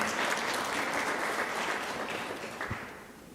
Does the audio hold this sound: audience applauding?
yes